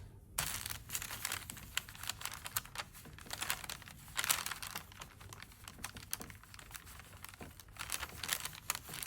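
Paper backing is peeled and crinkled off small fused fabric appliqué pieces, giving a close run of dry crackling and light tearing sounds with no talk.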